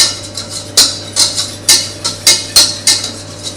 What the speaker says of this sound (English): Give it a good whisk.